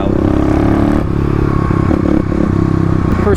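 A Stage 3 Kawasaki KLX351 dirt bike idles and burbles close by, its engine a steady loud thrum with slight fluctuations and some clattering throughout.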